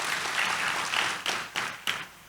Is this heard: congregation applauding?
yes